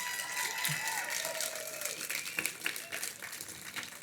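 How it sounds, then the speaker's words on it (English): Applause from an audience at a Veterans Day ceremony greets a 102-year-old World War II veteran, a steady crowd clapping across the whole stretch with a murmur of voices mixed in. "Can we give him a big round of applause?"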